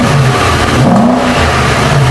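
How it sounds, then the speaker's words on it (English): A brand new Nissan Y62 Warrior's engine revs gently, rising and falling once in a throaty, close burble over a steady idle, with no voices. "On startup, it's got a nice little burble, it sounds fantastic, and with a little rev"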